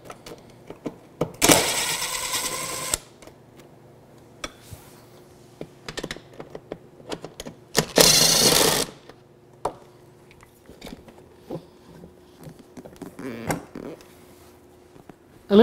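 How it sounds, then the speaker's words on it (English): A drill with an extension removes bolts on a Can-Am Spyder F3 T/LTD during a trailer hitch harness install. Two close, loud whirring bursts of a second or so each are separated by quieter clicks and handling noises. "I've got an extension on my drill. You're gonna have two bolts to remove."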